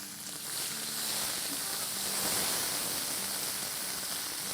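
Garlic and ginger sizzling vigorously in oil left from frying snakehead fish for a curry, a loud continuous hiss up close with no talk.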